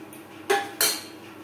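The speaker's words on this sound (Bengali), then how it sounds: "এইভাবে নাড়াচাড়া করে দেবেন, যেহেতু মুগ ডাল রয়েছে" A spoon clanks twice against a pot of mung dal khichuri while it is stirred, two short close metallic scrapes over quiet background.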